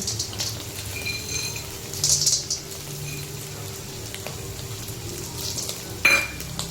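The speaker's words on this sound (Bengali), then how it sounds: "বন্ধুরা আমরা হালকা করে ভালো করে ভেজে নিয়েছি এবার আমরা এর মধ্যে দিয়ে দেবো বাদাম" Peanuts tossed into a pan of lightly fried flattened rice pulao, with a steady soft sizzle, scraping stirs and a couple of sharper spoon-on-pan clinks, close and unaccompanied by talk.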